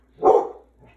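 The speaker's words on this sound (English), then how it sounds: "Those are my dogs. I would love to know what they're barking at." A single loud, close dog bark followed by a fainter, shorter yip.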